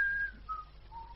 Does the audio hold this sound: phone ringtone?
no